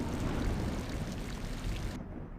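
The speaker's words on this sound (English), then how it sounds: "Let's get out of the rain if I can, huh?" Steady rain with a low rumble of thunder in The Guild Gold video game, a dense, loud wash of noise that continues throughout and thins abruptly near the end.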